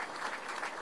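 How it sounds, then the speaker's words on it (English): A crowd at an Israeli embassy reception in Croatia claps steadily in a brief burst of applause for pilots, with no voices over it. "They deserve a big applause."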